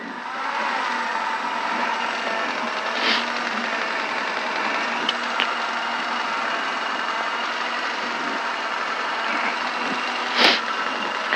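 A Robinson R22 helicopter engine running with the clutch engaged during a hover lesson, a steady droning hum heard from inside, loud and continuous with a couple of brief clicks.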